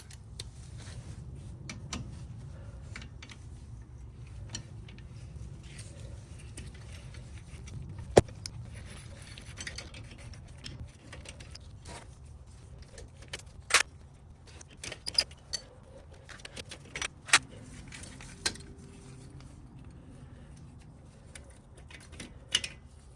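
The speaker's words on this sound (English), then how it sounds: "So we'll pull these pins out." Small metal pins are worked out of a Toyota RAV4 racing brake caliper, giving scattered light clicks and sharp ticks over a low background rumble, close and intermittent, with no talking.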